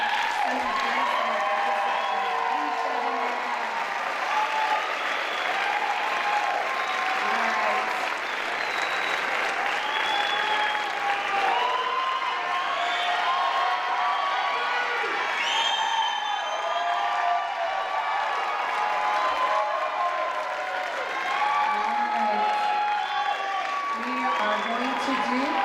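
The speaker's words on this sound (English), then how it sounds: "please give a round of applause for all the" Audience at the 2018 Mrs. Colorado Pageant applauds steadily for about twenty-five seconds, a dense, sustained clapping from a large crowd with a few scattered cheers mixed in.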